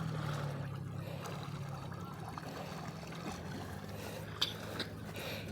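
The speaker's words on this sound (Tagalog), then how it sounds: "Ang lakas ng agos" Strong irrigation water in a canal in Pangasinan rushes and gurgles steadily, a low continuous wash with a few faint splashes, heard up close and alone without talk.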